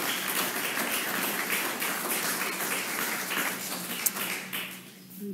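Council members and attendees at a municipal installation meeting applaud the newly named first deputy mayor, a steady wash of clapping in a large room that continues evenly and eases slightly near the end.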